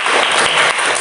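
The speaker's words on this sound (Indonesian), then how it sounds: "Aplaus untuk Reza" A short burst of dense applause for a student in a classroom, steady and loud over about a second.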